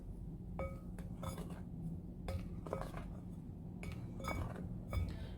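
Dry ingredients for cassava rosemary bread, including flour, stirred together in a bowl: repeated light clinks and taps of a utensil against the bowl in irregular bursts, fairly quiet and close, with no talk.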